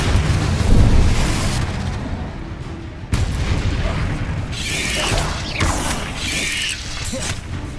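A Bombarda spell explosion in the video game Hogwarts Legacy: a loud, booming blast with crashing debris and mechanical clanks, then a sharp new impact about midway, followed by rumbling and rattling that continue to the end.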